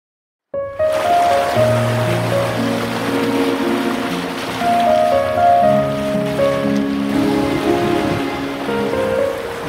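A sailboat under way at sea between Saint Lucia and Saint Vincent, with steady wash of waves and water rushing along the hull, plus a low droning hum, continuous and fairly close.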